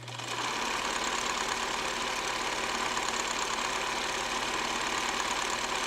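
A sewing machine runs fast in a steady, dense mechanical whir with a rapid even needle rhythm, loud and close throughout, with no talking.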